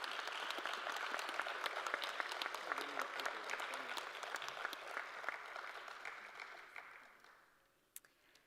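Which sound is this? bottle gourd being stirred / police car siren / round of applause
round of applause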